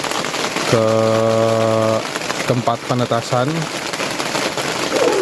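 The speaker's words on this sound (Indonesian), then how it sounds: "Mohon maaf apabila ada noise karena kondisi di sini hujan dan atapnya kita pakai plastik" Rain drums on a plastic roof over an animal area beside a farmhouse, a steady close hiss that runs through the whole stretch while someone talks over it.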